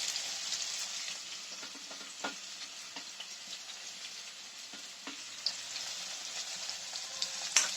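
Ginger frying in hot oil for a gooseberry pickle, a continuous bright crackling sizzle with scattered pops and a few soft stirring clicks, close but moderate in level, without voices.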